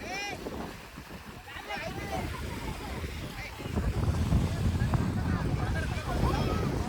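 Strong sea waves crash and roar at a beach under gusty wind buffeting the microphone, with people talking nearby over the surf and the rumble growing heavier toward the end.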